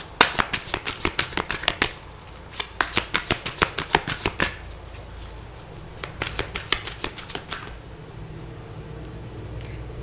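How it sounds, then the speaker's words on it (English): An oracle card deck is shuffled by hand in quick bursts of crisp riffling card snaps, close and clear, with a short pause before a second round and softer handling as a card is pulled. "I'm going to pull for you an oracle card"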